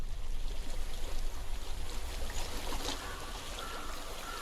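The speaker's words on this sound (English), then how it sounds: "पानी कलकल की आवाजें आ रही हैं यहाँ से" Babbling, flowing stream water in the video game Hellblade: Senua's Sacrifice, a steady broadband rush and trickle that runs throughout and eases slightly toward the end, with no talk.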